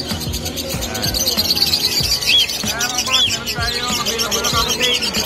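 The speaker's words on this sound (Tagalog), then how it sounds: "back to back Lutino kakatail" Lutino cockatiels at a busy pet market chirp and whistle in repeated bright calls over a noisy background with people talking nearby and rhythmic clatter underneath.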